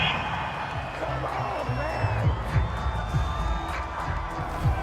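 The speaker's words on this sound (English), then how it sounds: "This home crowd, they're happy with that call." A home crowd in Madden NFL 22 roars and cheers steadily across a football stadium after a penalty call, a broad continuous swell with scattered whoops.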